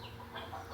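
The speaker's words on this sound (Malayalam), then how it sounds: "അപ്പോൾ കോഴികൾ ഇതിൽ കാണിക്കുന്നുണ്ടല്ലോ കോഴികളെ." Chickens clucking softly at a poultry farm selling country and fancy breeds, a brief faint murmur of low clucks with no talk.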